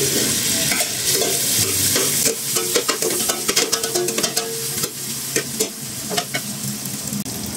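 Hotdogs frying with garlic in a pan, a loud, steady sizzle that carries all the way through, with the clatter and scrape of stirring picking up in the second half. No one speaks.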